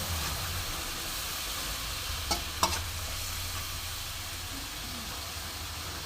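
Spice paste sautéing in a pan with a little added water for a tangy-spicy katla fish curry, a steady low sizzle broken by a couple of sharp scraping stir clicks midway.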